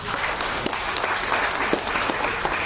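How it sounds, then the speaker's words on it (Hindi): An audience applauds with steady hand clapping throughout, a dense, even patter of many hands at moderate loudness with no voices over it. "हाथ से ताली बजा रहे हैं"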